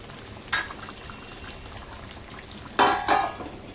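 A cluster bean and potato sabzi cooks in a pan, a soft, steady sizzle broken by a few brief louder bursts of stirring or clatter, close by and with no talk.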